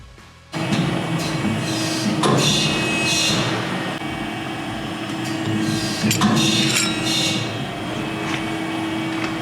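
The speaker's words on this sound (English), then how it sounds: "get them to the angles for the bumpers, which we're going to fold on our machine" A folding machine bends laser-cut steel Defender bumper parts to angle in a workshop, giving a loud, steady mechanical drone with occasional heavier clanks and thuds rising out of it.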